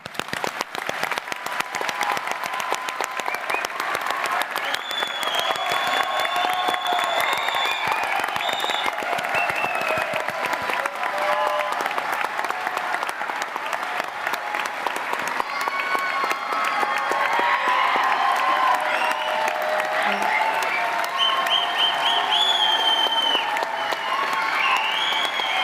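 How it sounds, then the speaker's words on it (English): A large audience at a university graduation ceremony for science, engineering and environment graduates applauds continuously, dense sustained clapping with some cheering throughout. "Please, can I ask you all to join us in one round of applause?"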